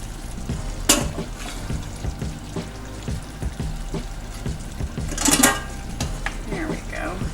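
Pasta is spooned into a blue cheese sauce in a pan, giving soft wet scrapes and clinks of a spoon and a gentle bubbling simmer, with a couple of sharper metallic taps near and clear.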